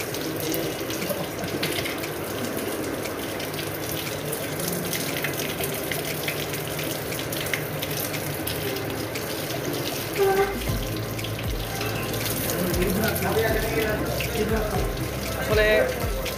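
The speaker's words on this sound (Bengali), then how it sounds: "এখন হাত ধোবো আর কি" Hands being washed under a running tap at a hotel, a steady close stream of water with splashing bursts near the end, voices talking faintly in the background.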